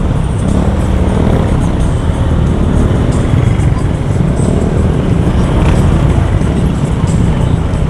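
Old-style traditional jeepneys in dense rush-hour traffic, a loud, continuous wash of engine rumble and road noise with no distinct pass-by standing out.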